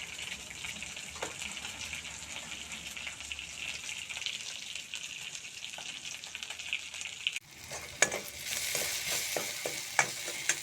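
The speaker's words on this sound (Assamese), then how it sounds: "এয়া মাছ ভাজি আছোঁ আৰু এইখিনি ভজা হৈ গ'ল।" Fish fries in a pan with a soft, steady sizzle that swells into louder, sharper spitting and crackling partway through.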